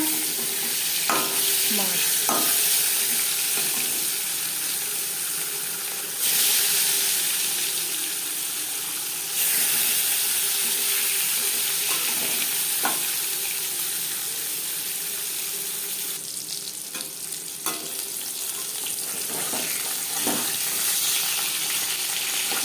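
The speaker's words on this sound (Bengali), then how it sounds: "মাছ ভাজা হয়ে গেছে একটা পাত্রে উঠিয়ে নেবো" Pieces of rui fish frying in hot mustard oil, a steady close sizzle running throughout with occasional crackles and scrapes of turning, no voices.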